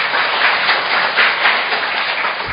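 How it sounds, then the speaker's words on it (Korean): Audience at a Korean conference on state violence gives a dense, continuous round of applause, loud and even throughout with no voices. "다시 한번 큰 격려의 박수 좀 부탁드립니다"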